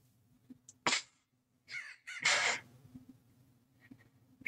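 A crow caws in a few harsh, separate bursts. One sharp call comes first, then a longer pair of raspy caws close by, all set against a quiet, low background hum.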